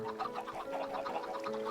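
Chickens cluck in the Minecraft video game, a steady run of short repeated game clucks over a faint musical drone, fairly quiet and with no speech.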